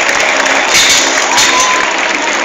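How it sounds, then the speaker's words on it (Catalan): A crowd applauds and cheers loudly and continuously as cyclists arrive at the finish line of a 2013 race in Banyoles, the clapping dense and close with no gaps. "L'aplaudiment per tots aquests que arriben."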